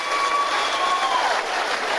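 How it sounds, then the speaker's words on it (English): Crowd applause after a professional boxing fight, a dense continuous wash of clapping with a faint whistle-like tone running through it, loud and steady for the whole stretch. "give them both a big round of applause, please"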